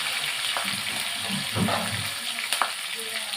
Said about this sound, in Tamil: இப்போ இதோட நான் வந்து பூண்டை நசுக்கி போட்டுக்கிறேன்